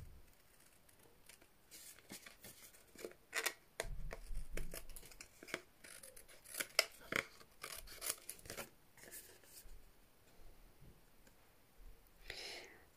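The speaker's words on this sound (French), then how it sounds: "on retourne sa carte et puis on vient couper tout ce qui dépasse" Scissors trim the overhanging edges of a card, giving quiet crisp snips and paper rustles in irregular bursts, close and soft, with faint whispered speech in between.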